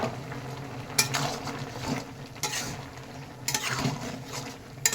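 Shapla stems and prawn curry sizzle and bubble in a pan as coconut paste is stirred in, with a steady low simmer and a few sharp utensil clinks against the pan.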